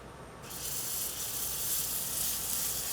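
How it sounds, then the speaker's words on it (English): Filet steak hitting a hot oiled pan, a sudden bright sizzle that starts half a second in and holds as a loud, steady hiss for the rest of the clip. "we're gonna sear both sides of it"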